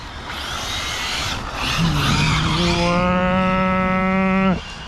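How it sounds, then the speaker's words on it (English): Arrma Felony 6s RC car drifting, a high tonal whine rising and holding steady over rough hiss, close and loud for a few seconds before cutting off abruptly. "Bit of drifting"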